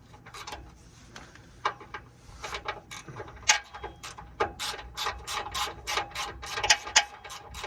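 Ratcheting clicks from a 13 mm socket wrench loosening a bolt on a 1998 Chevrolet 1500 fuel filter, sounding as quick bursts of close, crisp pawl clicks over about eight seconds, with no talking.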